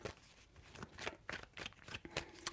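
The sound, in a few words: shuffling tarot cards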